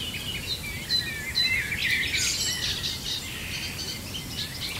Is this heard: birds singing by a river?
yes